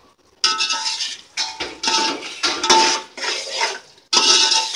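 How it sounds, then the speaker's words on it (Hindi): Potatoes being stirred into minced meat (kheema) in a metal pot for biryani, a spoon scraping and clinking against the sides in several bursts separated by brief pauses, close and fairly loud, with no talking. "आलू को भी हम पूरी तरह से अच्छे से मिक्स कर लेंगे खीमे में।"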